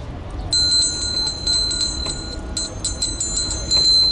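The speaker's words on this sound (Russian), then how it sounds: "Давайте позвоним в колокол." A small, high-pitched bell rings in quick bursts of repeated strikes, with brief pauses between runs, over faint outdoor background noise at a tea factory in Sri Lanka.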